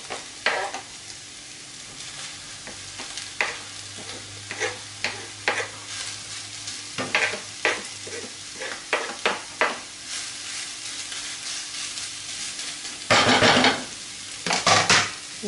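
Minced meat browned with onion and garlic sizzles in a frying pan as chopped vegetables are added, with a steady fry under a series of sharp, close scraping stirs and a louder burst of stirring near the end.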